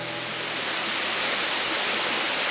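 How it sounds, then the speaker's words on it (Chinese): Dajianshan waterfall in Xizhi, a cascade four or five storeys high on a wet mountain trail, roars as a steady, close, broadband rush of falling water with no voices. "这应该是最大的一座瀑布了"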